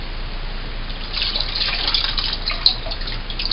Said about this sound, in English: we'll use a cold wash and just give everything a rinse